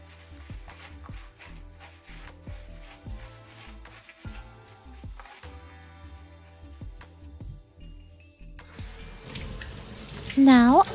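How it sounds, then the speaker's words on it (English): Cool tap water runs and splashes while rinsing a toddler's wet curly hair, a soft steady stream with gentle drips, growing louder and fuller near the end. "Now I thoroughly rinse with cool water."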